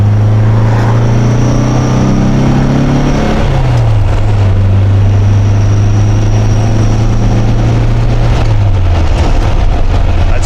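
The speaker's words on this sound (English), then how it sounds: "It has a little deeper exhaust note or something." A car engine fitted with Dellorto DRLA carburetors idles close by, a loud steady low exhaust drone holding a constant pitch that dips slightly and settles, alone without talk.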